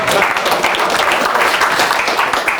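Short burst of steady audience clapping at a finance and digital assets conference, dense and fairly close, with no talk over it.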